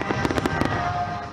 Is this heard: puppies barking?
no